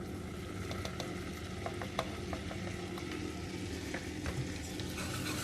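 Flour stirred into melted butter in a pan for a creamy mushroom sauce, a continuous low sizzle with quick clicking scrapes of the spoon, close by and without voices.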